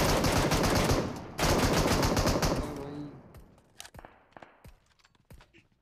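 A bot fires a rapid automatic burst in the video game PUBG, a loud dense rattle for about three seconds, then scattered fainter single shots and clicks trailing off.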